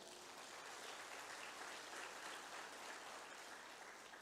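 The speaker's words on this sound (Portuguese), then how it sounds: "Você pode dar um aplauso ao Senhor?" A church congregation at a family worship service claps together in a sustained, even burst of applause, soft and somewhat distant, with no voices over it.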